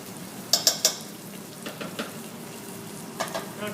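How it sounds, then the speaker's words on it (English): Meat with paste fries in a pan for gravy, giving a steady low sizzle broken by a quick cluster of three sharp utensil clinks and later a few softer scrapes. The sounds are close, and no one talks. "so we're cooking this, getting lots of pincé going on"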